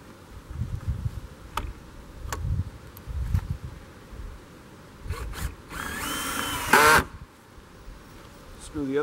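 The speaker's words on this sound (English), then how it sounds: "Screw the other side in." A power drill drives screws into a joist on a yurt platform, giving a loud whirring burst near the end, while a person talks throughout with a few short tool whines in between.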